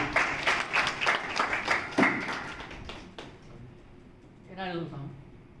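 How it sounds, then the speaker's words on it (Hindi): Brief burst of audience clapping at a community award ceremony honouring donors, a quick run of claps over the first three seconds before it thins out and a voice speaks. "तालियां।"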